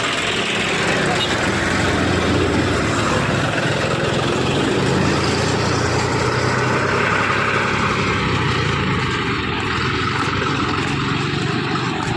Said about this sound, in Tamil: வண்டி வருது பார்த்து போ.